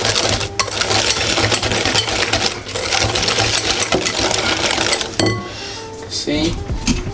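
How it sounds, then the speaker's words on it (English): Custard thickened with cornstarch is whisked briskly in a bowl, a continuous rapid scraping rattle that runs for about five seconds, then eases off with a few clinks. "Continue whisking."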